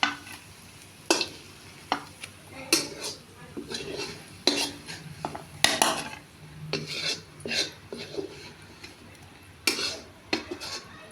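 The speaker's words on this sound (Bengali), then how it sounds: "এখানে আমি বেরেস্তা ভাজতে লেগেছি।" Beresta onions fry in a pan for chicken biryani, with a quiet sizzle under repeated metal spoon scrapes and clinks against the pan at irregular intervals.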